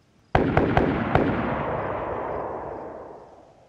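Four sharp gunshots in the video game DayZ crack in quick succession, sounding distant and booming, followed by a long rolling echo that slowly fades away.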